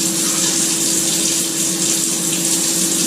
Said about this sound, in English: I'm going to add my 3 cups of cold water.